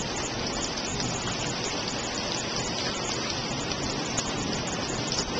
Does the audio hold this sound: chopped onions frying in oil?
no